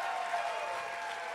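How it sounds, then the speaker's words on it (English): Church congregation applauding during a Christmas worship service, a dense, steady roar of clapping heard at moderate distance for a brief moment. "Now give Him another applause right now."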